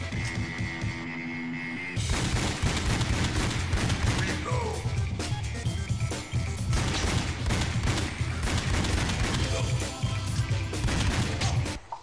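Rapid automatic gunfire in a video game boss fight, sustained bursts of shots crackling almost continuously after a short quieter lead-in, over a low throbbing hum of game sound.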